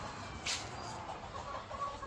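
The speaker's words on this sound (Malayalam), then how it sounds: "ടൈപ്പിലുള്ള കോഴികളുണ്ട് പല വെറൈറ്റി കോഴികളുണ്ട്" Chickens of several varieties on a farm in Ajman, soft scattered clucks over a low background hum, fairly faint and close by.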